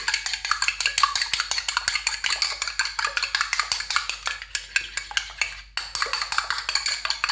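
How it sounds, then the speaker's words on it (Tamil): Eggs are whisked in a bowl for fish cutlets, giving a rapid, steady run of light clinking and beating strokes that continues almost without pause, close up and with no voices. "நான் எடுத்து வச்ச முட்டையை வந்து நான் வடிவாக கலந்து விடுவேன்."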